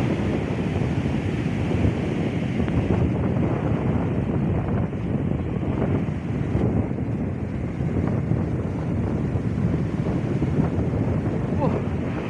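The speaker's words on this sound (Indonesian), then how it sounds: "Ombaknya sangat gede, teman-teman." Big waves and strong wind roar at a sandy fishing shore, with a constant heavy rush and rumble of surf and gusty wind buffeting the microphone.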